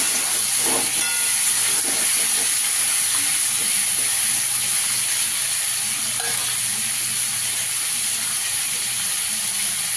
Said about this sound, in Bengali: পটলগুলোকে ভালো করে ভেজে নেব।